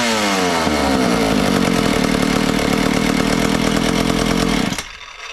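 A McCulloch Mac 1-10 chainsaw engine, freshly rebuilt, fires up and runs loud and steady close by with a rich buzzing drone, then cuts off abruptly near the end.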